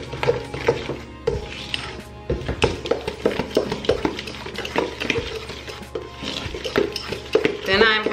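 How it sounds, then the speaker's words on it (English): Ingredients for an egg pie being mixed in a bowl, with repeated clinks and scrapes of a utensil against the dish in an uneven, busy rhythm close by. "I'm gonna mix this in"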